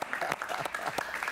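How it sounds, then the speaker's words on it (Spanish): A studio audience at a television interview with a Venezuelan singer gives a brief burst of clapping, quick uneven claps with some voices mixed in. "Un aplauso, un aplauso."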